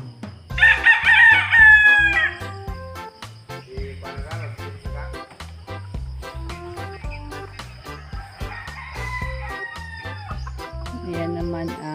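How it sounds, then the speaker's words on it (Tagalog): A fighting rooster crows loudly once near the start on a farm, then clucking and rhythmic tapping continue with crickets chirping faintly behind. "Manok panabong."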